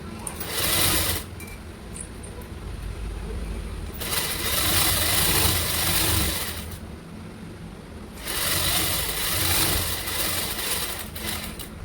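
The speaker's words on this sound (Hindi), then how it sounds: "अब इसको हम सिलाई मार देते हैं।" Electric sewing machine stitching a blouse, running in three long bursts with brief pauses between, close and steady, its motor whirring over a low mechanical hum.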